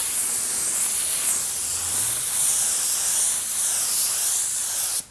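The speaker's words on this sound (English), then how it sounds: "Now let's spray one more coat of base on." A spray gun lays a base coat of paint on a car, a steady close hiss that runs unbroken for about five seconds and then stops abruptly.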